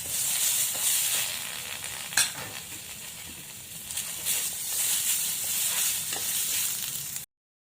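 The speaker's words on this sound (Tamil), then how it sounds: "ஒரு சின்ன தக்காளி பொடிசாக கட் பண்ணி சேர்த்துக்கலாம் இதுவும் வதங்கட்டும்" Chopped onion and tomato sizzle and sauté in a pan for quail chukka, giving a continuous close frying hiss with occasional stirring scrapes and no talking.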